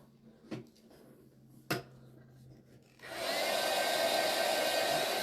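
A hair dryer blows steadily on wet paint, starting after a few faint knocks and quiet handling sounds, then holding a loud, even rushing whir close by until the end.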